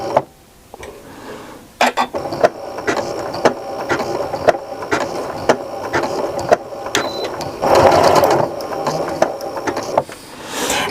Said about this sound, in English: I'm just going to press reverse and reverse, and it's going to do that nice little satin stitch over the top